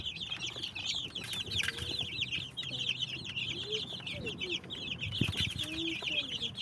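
Chickens and chicks on a poultry farm chirp and cluck continuously in a dense, steady chorus at moderate distance, with a few scattered knocks and faint voices underneath.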